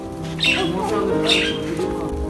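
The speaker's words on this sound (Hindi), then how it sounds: "ऊपर कुछ चिड़िया वगैरह बोल रही है" Birds calling overhead near a pond, two loud, harsh squawks about a second apart over steady background noise, with someone talking throughout.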